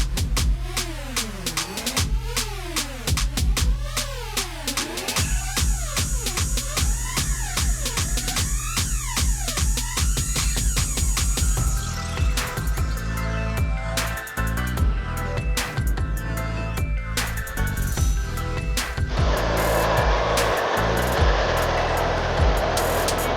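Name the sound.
Eachine EAT15 RC car drifting on drift tires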